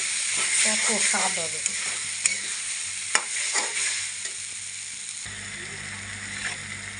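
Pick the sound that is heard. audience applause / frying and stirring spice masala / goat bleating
frying and stirring spice masala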